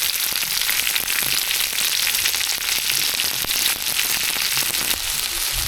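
Slit green chillies fry in very hot oil in a kadai, a loud, dense crackling sizzle with sharp pops scattered evenly throughout, close and continuous with no talk.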